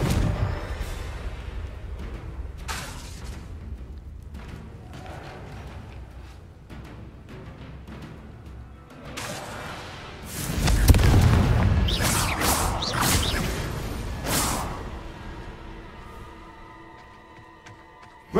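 Confringo blasting spells go off in the video game Hogwarts Legacy, a string of booming explosions and crackling bursts among combat noise, swelling into a loud, heavy blast midway.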